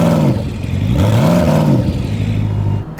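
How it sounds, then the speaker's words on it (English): A Koenigsegg Agera RS engine is revved while in drive, close and loud, its pitch climbing and falling in several swells before settling into a steady, lower drone. "can you rev up the Agera, please? So I rev it in drive"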